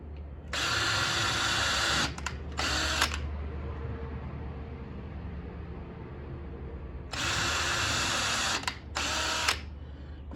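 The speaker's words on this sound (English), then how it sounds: "Drill pilot holes." A power drill whirs drilling pilot holes in two pairs of short bursts, close and loud, with a low steady hum and quiet gaps between them.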